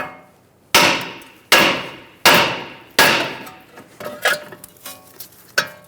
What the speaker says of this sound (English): Using a hammer, we're going to hit around the knuckle near the ball joint and release the tension